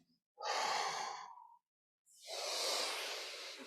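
Two long, breathy exhales during a crocodile breathing exercise, close and airy, the first about a second long and the second longer, separated by a brief silence.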